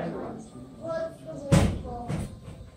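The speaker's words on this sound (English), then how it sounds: "Just let the door slam right behind you and Edgar was right there." A door slams shut indoors with a sharp, loud thud, followed by a second softer knock, while a voice talks over and around the impacts.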